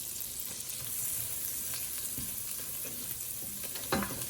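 Salted butter melts in a pan with a soft, continuous sizzle and light scraping stirs, close by, steady and fairly quiet, with no voices.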